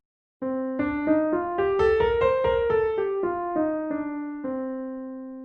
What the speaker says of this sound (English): here's what the Dorian scale sounds like